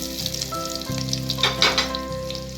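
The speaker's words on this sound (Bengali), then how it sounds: "পেঁয়াজগুলো দিয়ে নেওয়ার পর আমি ভাজতে থাকবো।" Onions fry in a pan over a medium gas flame for a Bengali thali, making a continuous close crackling sizzle with a low steady hum beneath and occasional stirring rustles, with no talking.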